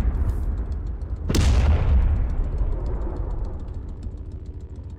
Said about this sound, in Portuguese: a explosão é muito bonita pra isso